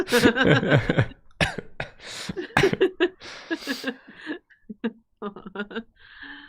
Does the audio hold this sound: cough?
yes